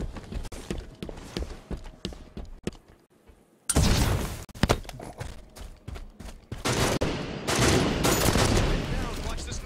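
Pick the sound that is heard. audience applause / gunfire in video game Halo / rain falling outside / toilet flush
gunfire in video game Halo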